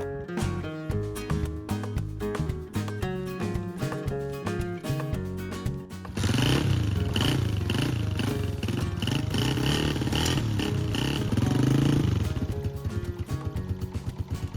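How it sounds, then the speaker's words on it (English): A motorcycle setting off for a ride, its engine running loud and close, with a rougher, fuller roar as it pulls away midway and keeps going. "we're gonna head off on the bike today"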